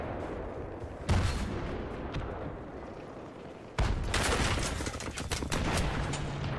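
Gunfire from an SKS rifle in Battlefield 3 rings out over a busy battlefield mix, with two loud bursts of shots, one near 1 second and another near 4 seconds, followed by more scattered cracks.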